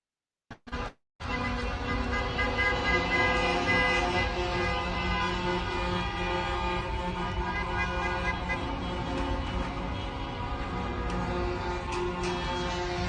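Dense, continuous stalled traffic noise during the Ottawa Freedom Convoy, with horns honking and blaring over the steady rumble of idling trucks and cars, loud and sustained after a brief start.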